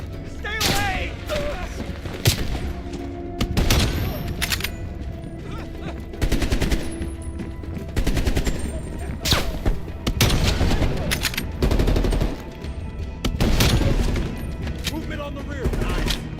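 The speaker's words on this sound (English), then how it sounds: "They're shooting at us!" Call of Duty Black Ops Cold War firefight with sustained machine-gun bursts and heavy gunfire rattling in repeated waves, loud and close, with occasional shouted voices between volleys.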